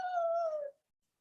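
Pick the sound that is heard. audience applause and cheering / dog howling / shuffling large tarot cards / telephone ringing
dog howling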